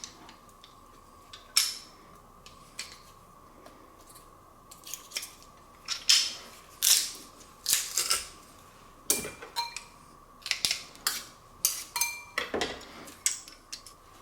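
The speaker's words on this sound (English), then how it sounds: "Now let's crush or mince our garlic cloves, in this case I'm crushing them" Garlic cloves pressed and crushed for a barbecued pork and broccoli stir fry: close, loud metallic squeezes and clicks in uneven bursts over a thin steady background tone, with no voices.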